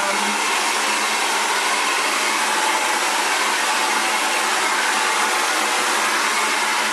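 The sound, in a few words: Xtava ionic ceramic hair dryer blow drying curly hair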